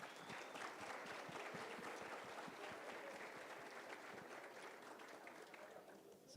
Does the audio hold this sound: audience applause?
yes